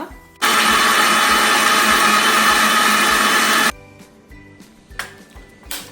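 A mixer grinder blitzes a small quarter-teaspoon batch of poppy seeds in a loud, steady whir lasting about three seconds, then stops abruptly; a few faint clinks and rattles follow.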